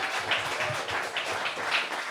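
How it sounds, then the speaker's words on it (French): An audience applauds a poet at a slam poetry tournament in Nice, a dense, continuous wash of many hands clapping at once, steady and fairly close throughout the short burst, with no voices standing out. "Applaudissez le poète, s'il vous plaît."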